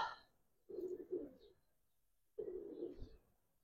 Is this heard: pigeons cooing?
yes